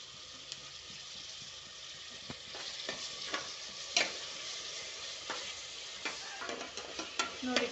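Chopped tomatoes, onions and garlic frying in a pan while being stirred, a continuous sizzle broken by scraping spatula strokes and small clicks, close and steady with no voices.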